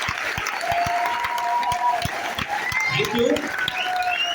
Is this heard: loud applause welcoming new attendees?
yes